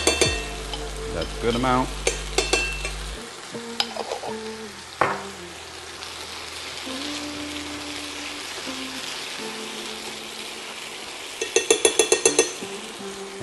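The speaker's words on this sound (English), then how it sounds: "And then drop in the black pepper sauce." Beef stir-frying in black pepper sauce, with busy clattering of a spatula against the pan over a steady sizzle. Bursts of rapid scraping strikes come near the start and end, and a voice speaks briefly.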